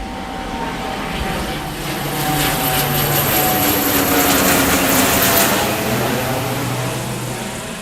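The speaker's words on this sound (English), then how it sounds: "Another airplane is coming somewhere." An airplane engine drones overhead during a storm in Tokyo, swelling louder in the middle and then fading, with wind noise around it.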